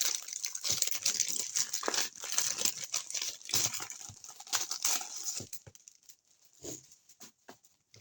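Crinkly plastic package being torn open and handled at close range: dense crackling and rustling that thins out into a few scattered crinkles, with no talking.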